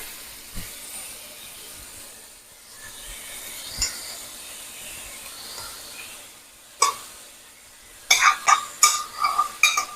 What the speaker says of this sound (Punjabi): ਇਹ ਆਪਾਂ ਹੁਣ ਇਹਨੂੰ ਮਿਰਚ ਨੂੰ 1-2 ਮਿੰਟ ਭੁੰਨ ਲੈਣਾ